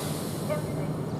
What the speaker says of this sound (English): This train has 8 coaches.